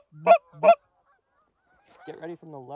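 A goose call blown during a waterfowl hunt in western Manitoba gives two sharp, loud honks, then after a pause a softer series of rapid clucking honks.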